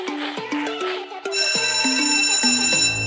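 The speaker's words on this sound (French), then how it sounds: "Oh, c'est la sonnerie." A school bell rings in a steady electronic pattern of repeated tones, loud and close, with no talking over it.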